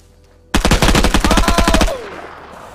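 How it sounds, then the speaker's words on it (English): Rapid burst of gunfire in the video game Vigor: about a dozen loud, close shots in quick succession lasting over a second, then a short fading echo. "This is my time for the shotgun."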